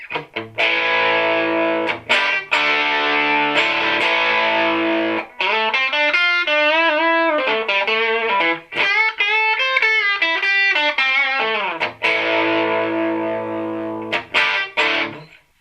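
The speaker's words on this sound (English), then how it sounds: "Right now I have the clean channel set to be more of a crunch channel." Electric guitar played through a PRS SE 50 amp on an edge-of-breakup crunch setting, strummed chords and a bending lead phrase, close and loud, with short gaps between passages.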